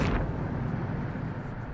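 A Bombarda explosion spell in the video game Hogwarts Legacy, a booming blast that hits at once and rolls off into a low, rumbling decay.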